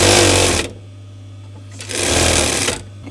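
An industrial sewing machine running in two short, loud, fast bursts of stitching, separated by a near-silent pause in which only a low motor hum remains.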